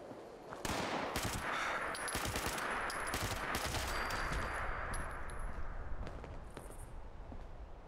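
Video game gunfire pours out in rapid bursts of automatic shots with metallic clanks and pings, loud and continuous from early on, then easing slightly near the end.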